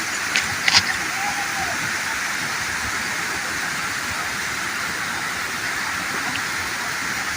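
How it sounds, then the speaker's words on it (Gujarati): Rushing water from many monsoon streams and waterfalls pours down a hillside near Ramdhari village and its lake, a steady broadband roar with a couple of brief knocks early on. "નિકાળ ઉપરથી પાણી પડતા અનેક ઝરણાઓ સુંદર શોભે છે"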